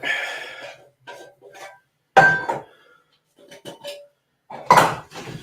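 Cocktail stirred over ice with three dashes of Peychaud's bitters, a series of sharp glassy clinks and rattles in separate bursts with quiet gaps, close and fairly loud.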